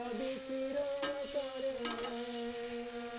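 Potatoes are stirred into spice paste frying in a pan for a stingray fish curry, with a low steady sizzle, a few spoon scrapes and clinks, and a faint tonal hum underneath.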